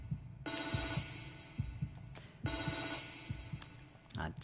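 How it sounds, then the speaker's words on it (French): An old telephone rings in the survival horror game The Evil Within 2, two long buzzing rings separated by a pause, over a low, thudding heartbeat-like pulse in the game's ambience. "Un petit téléphone."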